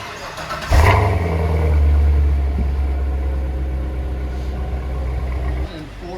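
A Chevrolet Corvette C7 V8 cranks and fires with a sharp burst, then settles into a deep, loud, steady rumble with a brief rev partway through, close to the listener.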